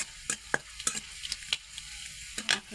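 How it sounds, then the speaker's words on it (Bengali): Fenugreek seeds fry in hot oil for a village-style ghorkhatta chutney, with a soft sizzle under sharp, scattered scrapes and clicks from stirring in the pan, close and fairly quiet. "মেথিটা একটু ভাজা হয়, ভাজা হয়ে গেছে।"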